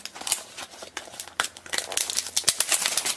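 Crisp crinkling and tearing of a plastic blind bag toy package being unwrapped, close and loud, with rapid irregular rustles and snaps that grow busier toward the end, no talking.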